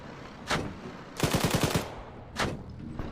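Machine-gun suppressing fire in ArmA: a short single shot, then a rapid burst of about eight rounds, then another lone shot, sharp and fairly close, with no talking.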